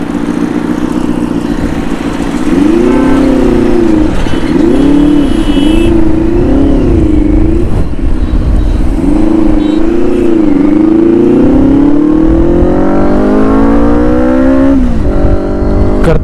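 Benelli 600i motorcycle engine revving loudly on a highway, the close, heavy tone rising and falling through several throttle blips and then climbing steadily as the bike accelerates.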